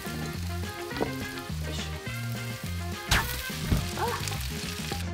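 Food sizzles and fries steadily in a frying pan in a home kitchen, close up, with a few sharp clatters of utensils partway through.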